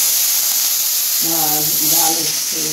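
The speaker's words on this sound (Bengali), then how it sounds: "আর কাঁকরোল ভাজা হচ্ছে" Spiny gourd (kakrol) frying in a pan gives a steady close hiss and sizzle throughout, with a voice talking over it in the second half.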